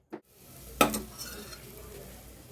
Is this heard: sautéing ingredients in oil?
yes